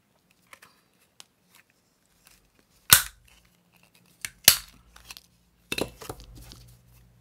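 Scissors cut paper for junk journal cut-outs, three crisp, close snips spaced a second or so apart, with light paper rustling between them.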